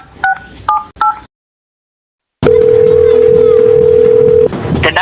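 Three quick keypad beeps from a phone, then a silent gap, then a long steady ringing tone over background noise.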